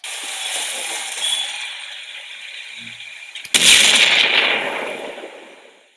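A Manhattan cityscape ambience hisses with a steady broadband city wash, then a sudden layered explosion boom hits midway and rumbles before fading out; no talking.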